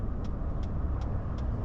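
Road traffic streaming past in both directions, heard from inside a truck: a steady, close engine-and-road rumble with a regular soft ticking repeating about every 0.4 seconds.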